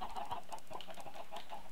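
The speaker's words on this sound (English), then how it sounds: "My chickens. I'm not too sure why I have so many chickens in here." Chickens on a farm in the Minecraft video game cluck in a steady run of short, repeated calls at close range. The clucks sound busy and overlapping, and nobody talks over them.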